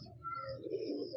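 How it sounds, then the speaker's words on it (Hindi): Soft, low cooing of an Ali wala pigeon, a fancy pigeon breed kept by Sialkot hobbyists, held close by hand; a steady murmuring coo runs through the whole short stretch with no talk. "ये अली वाला कबूतर है"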